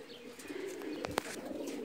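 Pigeons settle on a rooftop after landing, giving soft low coos with a couple of brief sharp chirps or clicks, quiet and slightly distant against light background noise.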